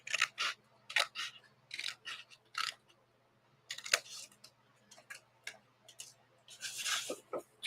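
Scissors cutting out paper ephemera up close, producing short crisp snips in irregular bursts separated by brief pauses, with one longer rustling cut near the end.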